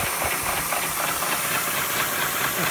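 A 5-inch gauge Metro steam locomotive runs on a rolling road under load, giving a loud, continuous steamy hiss with a fast, rhythmic chuffing pulse from close by.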